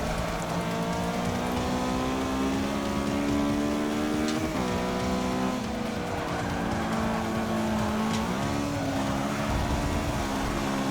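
A race car engine in Forza 6 drones steadily throughout, its pitch climbing and dropping sharply at gear changes and corners, loud and continuous with no talk.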